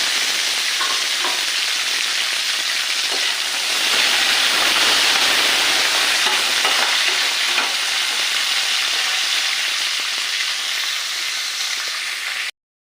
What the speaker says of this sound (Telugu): ఇప్పుడు బాగా దోరగా వేగిపోయాక ఒక చిన్న కొబ్బరి ముక్క వేస్తున్నానండి